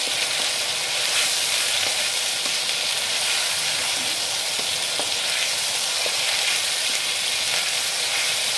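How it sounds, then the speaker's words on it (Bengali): Chopped green chillies hitting hot oil for Bengali mustard prawn curry give a loud, dense, unbroken sizzle that holds steady and close throughout, with no voices. "এবারে কাঁচা লঙ্কা কুচি দিচ্ছি"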